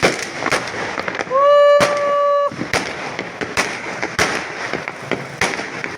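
Repeated sharp firecracker bangs pop at irregular intervals during Diwali, some near and loud, with a brief whistling tone rising amid the blasts.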